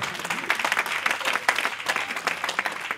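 A church congregation claps steadily throughout, with dense, fast applause that stays close and full from start to finish, while faint crowd murmur mixes underneath.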